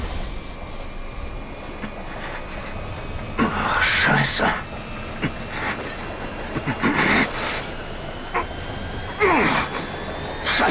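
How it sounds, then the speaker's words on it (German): A train ride in the video game Wolfenstein II: The New Colossus, with a steady rumbling rail drone and intermittent clattering bursts, while someone talks and exclaims over it. "Ah, mit dem Zug unterwegs."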